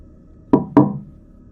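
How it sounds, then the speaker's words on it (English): Two sharp, soft knocks on a door in quick succession, close and distinct against near silence, each fading with a brief resonant tail. "there was a single, soft knock on the other side."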